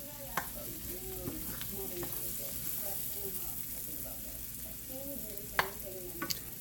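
Squash frying in melted butter in a pan, a soft steady sizzle with occasional stirring scrapes and a few sharp utensil clinks, fairly quiet and close.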